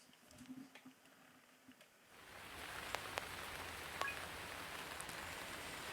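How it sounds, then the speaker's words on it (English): Rain on a roof in the game Teardown: after two seconds of faint scattered taps, a steady patter of rain sets in and keeps up with a few sharper ticks. "It's raining out."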